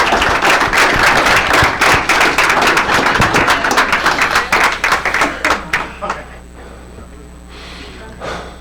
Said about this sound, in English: A round of applause for their great job.